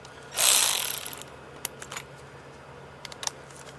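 A ratchet working loose the high pressure fuel pump bolt on a Mercedes M276 engine during a camshaft and phaser replacement, a rapid clicking burst followed by a few isolated close clicks.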